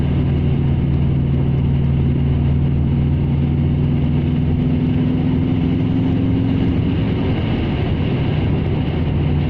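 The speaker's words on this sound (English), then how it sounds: "I'm tickling the throttle here. Makes such alluring noises." A Subaru Impreza engine with an aftermarket exhaust rumbles steadily at close range, with low droning tones that swell slightly as the throttle is lightly blipped.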